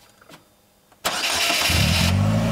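A 2018 Polaris Slingshot GT's GM Ecotec 2.4 liter engine is started up close: a couple of faint clicks, then the starter cranks abruptly and the engine catches into a loud, rough, tractor-like idle.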